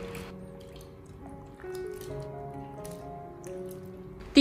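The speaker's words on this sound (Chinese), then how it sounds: "我们用手给它持续的搓洗一小会，将西葫芦里面的一些盐分清洗出来。" Salted zucchini is rubbed by hand in a bowl of water, making soft squishing, sloshing and dripping sounds. They are quiet and close, with faint steady tones in the background.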